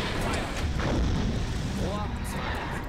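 A submarine torpedo tube fires in Silent Hunter 5, setting off a dense, rumbling whoosh of launch noise that fills all three seconds at a steady, close level.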